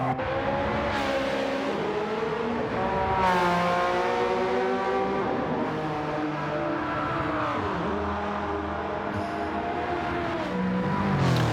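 GT2-class race cars in Gran Turismo 7 during an endurance race, engines roaring and revving continuously with rising and falling pitch through gear changes, a dense, loud multi-car drone throughout.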